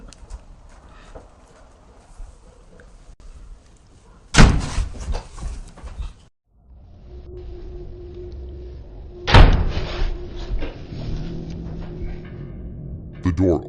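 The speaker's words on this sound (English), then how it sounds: "The door all of a sudden closes on its own." A door swings slowly and then slams shut on its own with a loud bang, followed by a second sharp knock or slam a few seconds later amid faint room noise.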